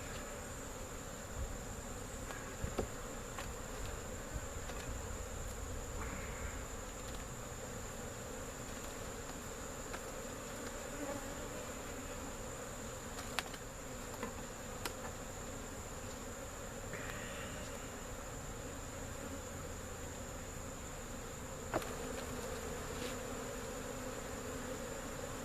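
Honey bees buzz around an opened hive during frame handling, a steady, dense hum of many insects close by with occasional sharper passes near the mic, and no voices.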